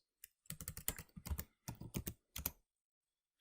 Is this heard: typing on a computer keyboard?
yes